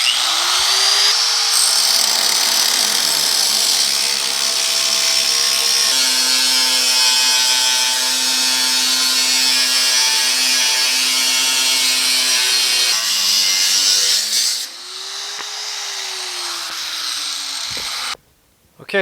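An abrasive cut-off wheel slices through the steel inner door panel of a 1950 Chevy truck, a loud, steady high-pitched grinding whine held for about fourteen seconds, then a short pause and a second burst of cutting with the tool winding down.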